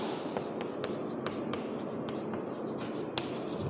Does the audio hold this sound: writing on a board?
yes